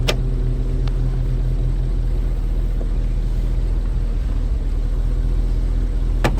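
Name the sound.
classic car engine idling smoothly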